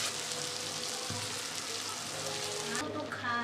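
Mustard-poppy paste, chilli paste and green chillies frying with browned onions in a pan, giving a steady, fairly loud sizzle that runs without a break. Near the end a few short clinks come through.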